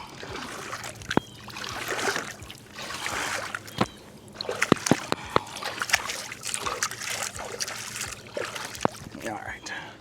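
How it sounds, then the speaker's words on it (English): Hands being rinsed of fish slime in river water over the side of a fishing boat while chasing blue catfish, with splashing and trickling bursts under intermittent talk and a few sharp knocks. "Need to rinse my hands, covered in slime."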